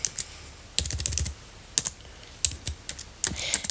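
Computer keyboard typing in short, irregular bursts of crisp, close clicks and key thumps with brief pauses between, no voices.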